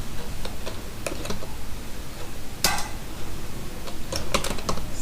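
Computer keys are pressed in a quick scattered series of light clicks, with a sharper cluster midway and another burst near the end, close and moderately quiet, with no talking.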